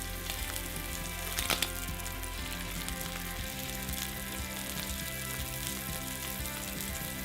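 Snow crab sushi roll pieces frying in a pan after being flipped, a dense continuous sizzle close up with a brief clatter early on, no voices.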